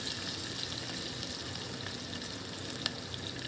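Onions fry in a home kitchen pan with a steady, even sizzle that runs throughout, joined by soft stirring.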